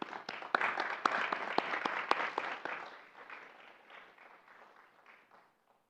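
An audience at a university honors colloquium panel applauds to welcome a speaker to the stage. The clapping is full and lively at first, then thins and fades away over several seconds.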